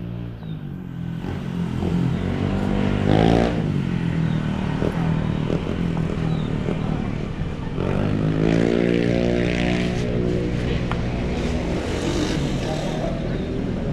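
A car or motorbike engine runs steadily and loudly throughout, rising and falling in pitch as it is revved in a couple of sweeps, close by with no talking over it.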